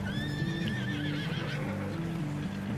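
A horse in the Red Dead Redemption 2 video game gives a shrill, wavering whinny that fades out, with low snorting and hoof clip-clop underneath at steady moderate volume.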